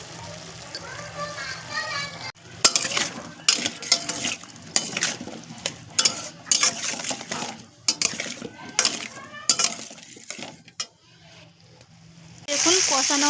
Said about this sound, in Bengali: দেখুন কষানো আমার হয়ে গেছে পটল আলুটা